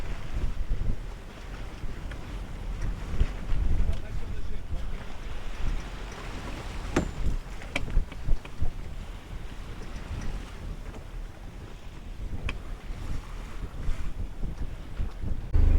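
Strong wind of about 17 knots roars across the microphone aboard a sailboat on an Atlantic crossing, with water sloshing against the hull and a few sharp knocks, continuous and close.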